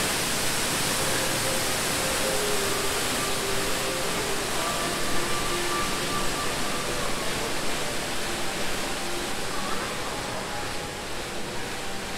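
Rushing water from a waterfall at the Jurassic World area of Universal Studios Beijing, a steady broadband roar heard from nearby with no breaks or voices over it.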